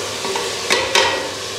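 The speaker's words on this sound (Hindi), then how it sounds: "अभी मैं ये डालती हूँ मसाला जो तड़का जो लग रहा है" Hot spiced tadka oil poured into a pot of cooking beans (lobia) and potatoes gives a steady loud sizzle, broken by two sharper hissing bursts as it is stirred in.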